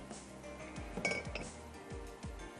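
Beef nihari stirred in a cooking pot, with a handful of clinking metal scrapes of a spoon against the pot rim and sides, close and moderately loud, with no talk.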